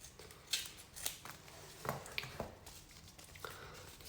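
Scissors snip through athletic tape while cutting strips for boxing hand wraps, a few crisp close cuts spread across a quiet room with small handling rustles between them.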